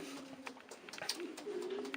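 Restless racing pigeons coo softly nearby, low murmuring calls rising and falling over about two seconds, fairly faint.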